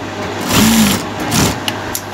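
Sewing machine stitching a kameez sleeve seam, one short close run of motor whir and needle chatter lasting under a second, then a faint second burst before it stops.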